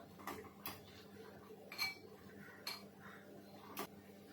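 Tomatoes being turned over in a pan, heard as a few quiet, separate metallic clinks and taps of a utensil against cookware over a faint background, with no talking.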